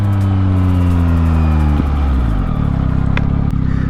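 A 2023 Yamaha MT-09 SP motorcycle accelerates at full throttle, its loud close engine note climbing steeply, then shifting gear and pulling on strongly with a rough, buzzing roar.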